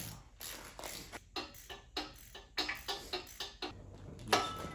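A ratchet wrench working on a 1000HP engine during assembly, giving quiet bursts of rapid clicking with short pauses between strokes.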